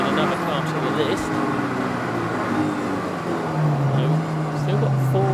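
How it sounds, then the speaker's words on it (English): Race cars in a 750MC Roadsports race at Snetterton, including an Audi RS3 TCR, idle and rumble in a steady low drone while queuing to leave the pit lane, with engine tones shifting near the end and faint voices in the background. "Busy queue of cars leaving the pit lane."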